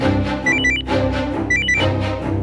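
A phone rings indoors with two bursts of quick electronic trilling tones over a loud musical background, no talk.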